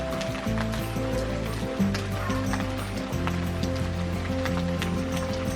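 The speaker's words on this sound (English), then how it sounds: "The rain's coming down a little harder now, and there's no wind." Rain falls steadily outdoors in calm, windless weather during a California storm, a soft, even patter over a low, droning hum in the background.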